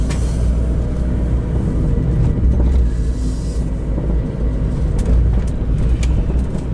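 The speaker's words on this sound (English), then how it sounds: "Let's let all this traffic pass." Road traffic passing on a village street in Azay-le-Ferron, France: a steady, fairly loud low rumble of car engines and tyres that swells slightly as vehicles go by, with no talking.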